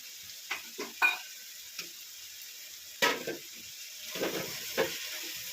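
Grated coconut tossed into a hot frying pan for an avarekalu and fenugreek-leaf upma, with scattered scraping stirs and soft sizzling bursts, fairly quiet and without talk.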